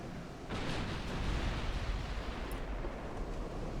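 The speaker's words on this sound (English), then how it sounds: "Masses of explosions within the Italian smoke." Dense rumbling naval explosions and booming bursts in Ultimate Admiral Dreadnoughts, shells and torpedoes striking warships within Italian smoke, a continuous loud roar of overlapping blasts with no talk.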